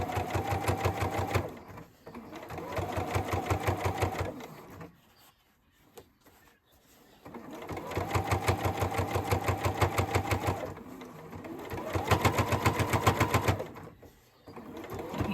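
A sewing machine stitches a zipper onto fabric in two long bursts of fast, rhythmic needle chatter, separated by a quiet pause with faint handling sounds.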